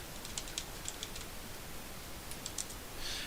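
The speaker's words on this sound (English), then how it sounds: "I'll type something here" A computer keyboard is typed on in a few light, scattered key taps, faint and close over steady background hiss, with no talking.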